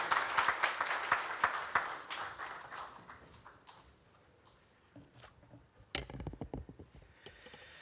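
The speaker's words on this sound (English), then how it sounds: "Please welcome Mr. Bose with a huge round of applause." Audience applause welcoming a speaker at a book launch event, a burst of clapping from a crowd that fades out, followed by a few scattered claps and taps close by, all fairly faint.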